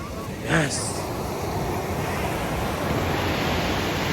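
Ocean surf rolls onto the sea shore at Puri, a steady, broad wash of waves and wind noise, with a brief brighter splash or voice-like sound near the start.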